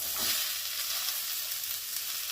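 Chopped ash gourd sizzles steadily in a pan with fried coconut, a close, even hiss of frying with no pauses and no talk.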